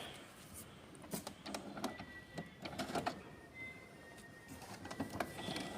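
An HP Ink Tank Wireless 415 inkjet printer running after being switched on, giving soft mechanical whirring and clicking as parts move, quiet and steady throughout.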